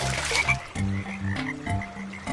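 Frogs croak at a pond in a series of deep, repeated calls at a steady, uneven rhythm, close and fairly loud with no voices over them.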